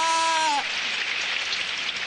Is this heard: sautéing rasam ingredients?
no